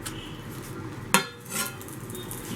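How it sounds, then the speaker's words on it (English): A cast iron skillet lands on a stovetop with one sharp metallic clunk, followed by a soft sliding rustle as bread buns are eased into the pan, with quiet background noise around them. "Remove the skillet and place the skillet on the stovetop again and gently slide the buns."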